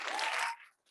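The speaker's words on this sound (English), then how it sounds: "Public applause continues." Audience applauding at a school board committee meeting, a short dense burst of clapping that cuts off after about half a second, then near silence.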